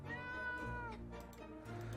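A cat in the survival game 60 Seconds! Reatomized meows in a long drawn-out call followed by shorter mews, close and clear over a steady low game soundtrack.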